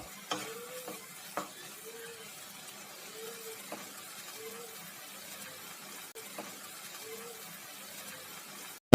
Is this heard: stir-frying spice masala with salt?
yes